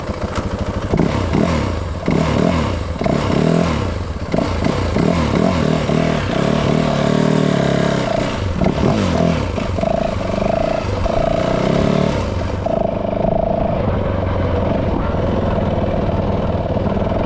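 A Husqvarna WR450 dirt bike rides down a road, its engine loud and close throughout, a steady rasping drone that rises and falls as the throttle opens and eases, with no voices over it.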